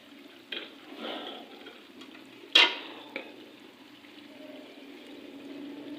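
Minced keema and bitter gourd frying in a pan with red chili, a soft steady sizzle with occasional stirring scrapes and one sharp burst of hissing as something hits the hot oil.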